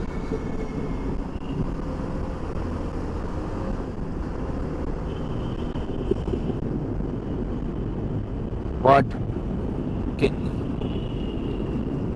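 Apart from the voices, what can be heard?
train passing on overhead track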